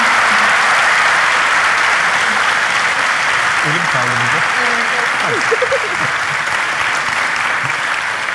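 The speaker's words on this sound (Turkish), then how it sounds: "Alkışlarla!" Studio audience applause at the close of a Turkish relationship-test talk show episode, a loud, steady wash of clapping throughout, with a voice speaking briefly over it.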